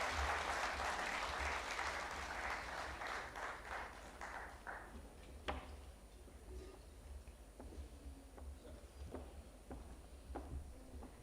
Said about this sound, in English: I request our audience to please give them a warm applause to end today's session.